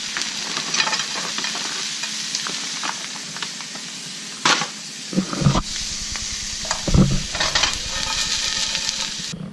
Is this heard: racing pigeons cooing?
no